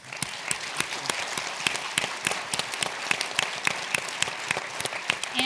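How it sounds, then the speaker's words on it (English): Audience applause after a ministers' panel discussion, steady clapping with sharp individual claps standing out, moderately loud and filling the room throughout. "join me in a big round of applause for this visionary,"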